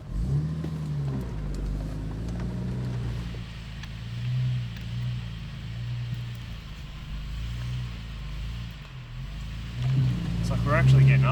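A 1997 Toyota 80 Series four-wheel drive with its rear locker out of action labours and revs over a rough jeep track, engine rising and falling in repeated surges beneath a steady low drone, with people talking over it.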